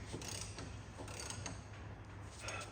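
A wrench works a bolt loose underneath a Ford Focus in a garage, giving a steady, close run of ratcheting clicks and metallic creaks with no talking.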